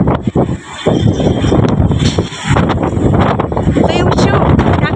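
Gusty wind during a dust storm roars loudly and continuously against the microphone, buffeting in surges, while a person talks over it.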